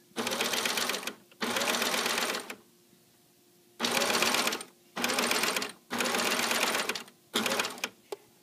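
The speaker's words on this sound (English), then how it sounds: "let me continue, finish this up, and you can see the result" A Baby Lock Evolution sewing machine fitted with a belt loop binder foot stitches fabric into a belt loop in several steady bursts of rapid whirring, separated by short pauses, loud and close with no talking.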